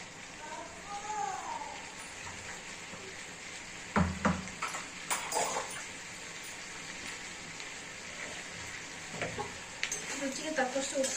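Chopped bottle gourd stir-fries in a pan with salt, giving a continuous soft sizzle and crackle, punctuated by scraping, clattering stirs. A voice talks over it intermittently.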